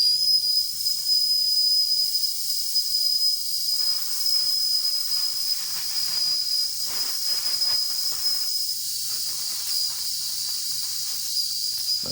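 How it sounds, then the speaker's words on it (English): The small whistle of a Wilesco D455 model steam engine screams continuously at a high pitch, mixed with a loud steady hiss of escaping steam that persists throughout. "So that involves opening up the whistle"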